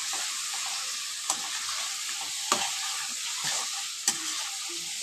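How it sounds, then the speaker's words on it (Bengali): Spices frying with ridge gourd and potatoes in a pan for a thin rohu fish curry, a steady close sizzle with a few sharp scrapes of stirring, no talking. "ঝিঙে আলুর সাথে মশলাটা কিন্তু ভালোভাবে আমি কষিয়ে নিয়েছি"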